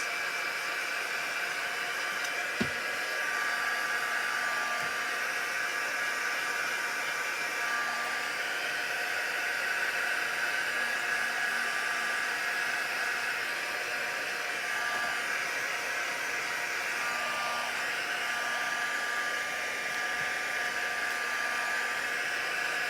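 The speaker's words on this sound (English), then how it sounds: "I think I'll just get my heat gun on this." Heat gun drying a handmade Christmas card, a loud steady blowing whine and whoosh that runs unbroken for over twenty seconds, close and alone.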